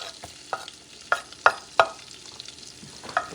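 Garlic chunks dropped into a pan over medium heat crackle against a steady frying hiss, with several sharp pops and clicks standing out, loud and close, with no voices.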